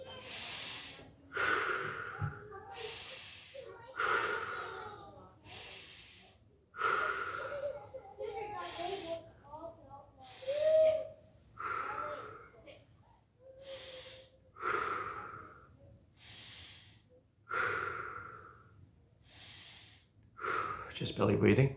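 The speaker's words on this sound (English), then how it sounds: "Just belly breathing, belly coming in and out." Slow, deep belly breathing during a qi gong standing meditation, each long audible breath in and out repeating at a steady, unhurried pace, close and fairly soft.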